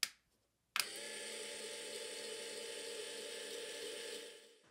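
Cheap, slow linear actuators on a dual trolling motor lift start with a click and run as a steady, high-pitched electric whine for about four seconds before winding down, with a brief mechanical noise just before they start.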